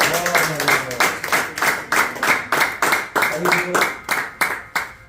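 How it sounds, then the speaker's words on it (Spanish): A church congregation claps loudly in rhythmic, steady unison for about five seconds, each beat sharp and close. A voice speaks briefly over the clapping at the start and again partway through. "Den un fuerte aplauso al Señor."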